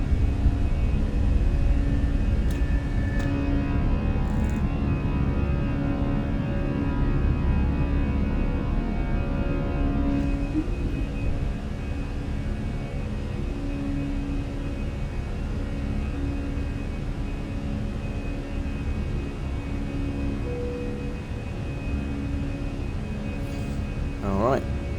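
Fenix A320 airliner engines during the takeoff climb in Microsoft Flight Simulator, a steady loud broadband jet roar with low rumble, joined by a pilot's voice talking over it.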